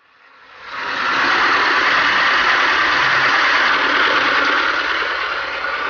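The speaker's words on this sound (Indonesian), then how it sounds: "kita lakukan dulu penyedotan air dengan mesin" An engine-driven pump draining water from a shrimp pond starts up and settles into a loud, steady, close droning run with no talk over it.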